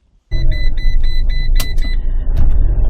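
A campervan pulls away from an airfield in Scotland, its engine and road rumble starting abruptly and then holding steady and close, with a few faint higher tones over the low drone.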